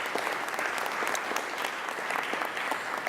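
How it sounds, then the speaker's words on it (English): Audience at a multipurpose arena groundbreaking ceremony applauding the on-site events team, a steady, full wash of many people clapping at once, sustained and even with no speech on top. "So please join me in giving them a round of applause."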